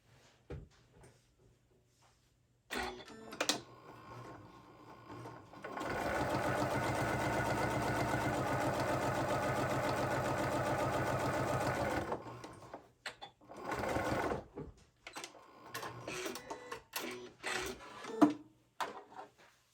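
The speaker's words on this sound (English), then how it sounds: "I'm just going to sew it up 1/8 of an inch." A sewing machine stitches a seam on a fabric pouch in one continuous run of about six seconds, with quiet handling clicks and rustles before and after.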